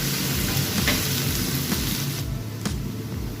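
Chopped white onion frying until golden brown for Spanish-style chicken, a loud, constant sizzle with bubbling crackle and light stirring scrapes, close up and without talk.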